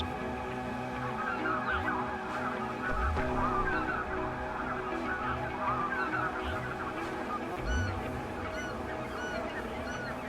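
A flock of geese honks continuously, many overlapping calls near and far, with a low rumble underneath.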